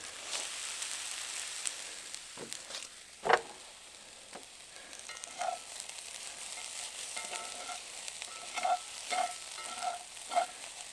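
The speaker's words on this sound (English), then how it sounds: "Sizzling." Food sizzles and crackles steadily in a hot pan over a propane fire pit, with occasional louder pops and scraping clinks of a utensil.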